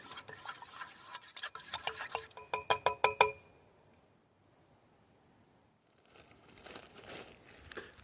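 A whisk or spoon stirs cornstarch into tomato juice, making quick clinking strokes against a bowl that grow sharper for a few seconds and then stop. Faint kitchen handling noise follows after a quiet pause.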